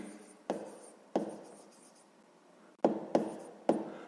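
A pen scratches across paper nearby in separate short bursts, each opening with a tap of the nib, with a pause midway before three more quick strokes.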